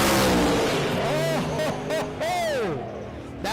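A no-prep drag racing car launching down Kil-Kare Dragway and spinning its tires, its engine revving loudly with rising and falling sweeps as it gathers traction, mixed with crowd and announcer voices in the background.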